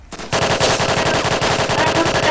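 Rapid automatic gunfire in the Apocalypse Rising survival video game opens abruptly after a brief quiet moment, then rattles on as a loud, continuous stream of closely spaced shots.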